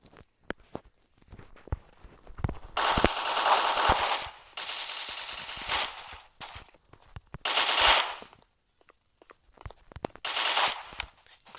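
Bursts of automatic gunfire from the Blockpost Mobile shooter game, with dense sustained volleys of rapid shots alternating with scattered single shots and short pauses, loud and close.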